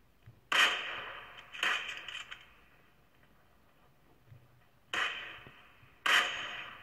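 Gunshots in a mobile shooter game played on a Vivo V9 phone, heard as four sharp, separated cracks in two pairs with brief decaying tails over quiet background.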